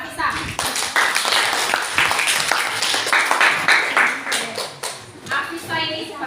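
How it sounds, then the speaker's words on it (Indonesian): A classroom of students claps for a classmate, a brisk burst of scattered hand claps mixed with children's voices and chatter throughout. "Tepuk tangan dulu buat Afisa."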